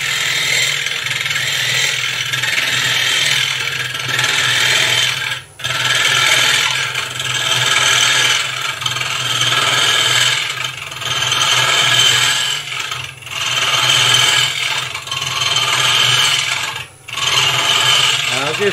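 Cutter turning wood on a lathe, a loud continuous scraping hiss in long passes. Each pass is broken by brief pauses as the tool is repositioned and rocked through the cut, with no talk.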